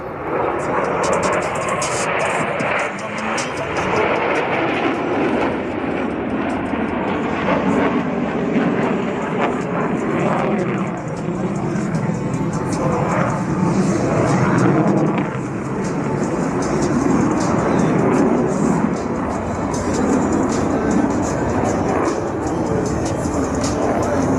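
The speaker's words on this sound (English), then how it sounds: "As the formation pulls the level, each pilot will perform an individual brake turn and exit the flight line in a separate direction" Blue Angels jets roar past in formation at the New Orleans airshow, a loud sustained rumbling jet-engine wash that swells and fades, with a public-address announcer talking over it throughout.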